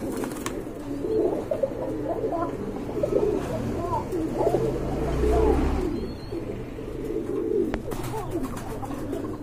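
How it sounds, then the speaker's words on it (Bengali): Pigeons, a pair of deep red birds being shown for sale, coo in low repeated murmurs alongside other birds, while someone talks over them throughout. "এখানে কিন্তু আর এক জোড়া কোকা কবুতর দেখতে পাচ্ছেন মাশাআল্লাহ"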